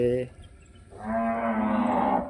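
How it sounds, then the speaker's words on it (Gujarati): Cows in the pens of a cow shelter low loudly, first a short moo and then a long, drawn-out one, close by with no talking. "જો ઘણી બધી ગાયો છે આમાં પણ."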